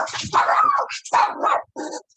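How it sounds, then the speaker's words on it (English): A dog barks indoors at home in a quick run of loud, close barks with short yips and a growling edge, separated by brief gaps. "That's my dog."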